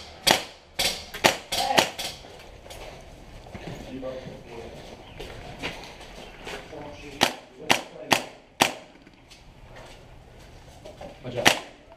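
Airsoft guns firing during an outdoor skirmish game, sharp isolated cracks and short bursts of shots scattered irregularly through the clip, some close and loud, others softer, with a brief shout among them.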